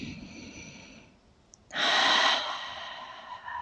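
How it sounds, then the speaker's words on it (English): A deep breath during a group breathing exercise: a faint slow inhale followed by a loud, full exhale near the listener, alone without talk. "Let's inhale and exhale 5 times."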